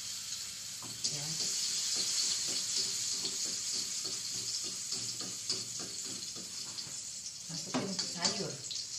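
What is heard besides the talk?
garlic frying in oil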